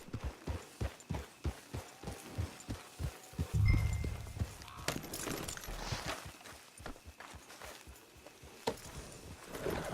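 Horse hooves pound at a steady galloping rhythm in Red Dead Redemption 2 Online, a repeated close clip-clop with a brief rumble partway through and no talk over it.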